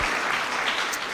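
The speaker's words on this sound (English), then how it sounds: "Give her a big round of applause." A round of applause from a youth church audience, dense and bright, filling the whole brief moment at low overall volume.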